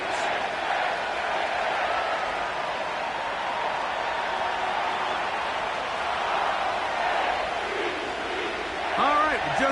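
Stadium crowd noise in an EA Sports football video game, set at M&T Bank Stadium in Baltimore, home of the Ravens: a steady, dense roar of many voices that holds loud and constant throughout, with a brief rise near the end.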